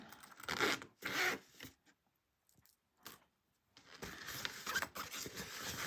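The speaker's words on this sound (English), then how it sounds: "You will open up your zipper pocket." The zipper pocket on a handmade Millennium Falcon cut-and-sew bag is pulled open in a few short, quiet zipping rasps with fabric rustling between them, close but soft.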